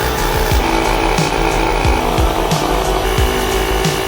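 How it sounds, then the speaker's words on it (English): A car engine idling roughly and misfiring, with uneven popping stumbles every half second or so over a steady rumble, close by. "Sounds like it's misfiring."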